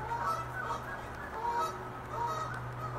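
Geese in a flock honk repeatedly outdoors in cool rain, several overlapping nasal calls rising and falling over a few seconds at moderate distance, with a steady low background hum.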